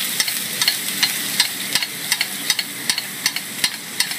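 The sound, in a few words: basting seared scallops with hot butter in a pan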